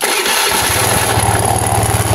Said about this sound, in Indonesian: Ini tak nyalakan motornya dulu.